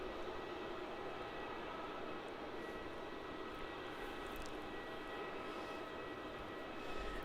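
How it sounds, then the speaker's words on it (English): Air India heavy aircraft AI 309 moving at Melbourne Airport, Australia, on its way to Delhi, heard as a steady, fairly faint, broadband engine roar that holds constant throughout, distant, with no voices. "Our next heavy aircraft of the stream, it's going to be AI 309 going off to Delhi."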